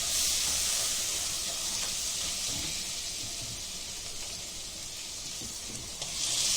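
Chopped tomatoes go into a pan of spicy okra masala, and a steady broad hiss and sizzle of frying fills the pan, close and continuous with no talking.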